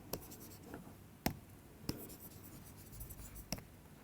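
Chalk or marker strokes on a board during a physics lecture, a few sharp isolated taps and short scratches spaced about a second apart, faint against a quiet room.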